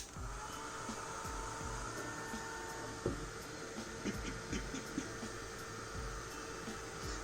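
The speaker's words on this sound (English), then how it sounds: "Do not overdo the heat gun in one area, otherwise it is just going to melt your candle." A heat gun warms a decoupage napkin onto a candle with a steady, faint blowing whir, broken by a few light clicks and handling taps.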